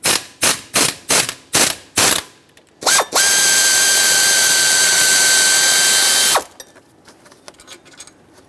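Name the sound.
ratchet with 15mm socket removing bolt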